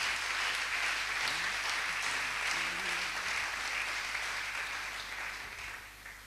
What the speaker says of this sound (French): Si ça va, on peut continuer à acclamer le Seigneur.